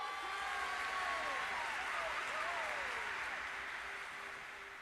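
Cheering crowd heard during a mobile game livestream for Twisted Wonderland, a steady wash of distant voices and applause-like noise with whistling tones sweeping above it, fading slightly toward the end.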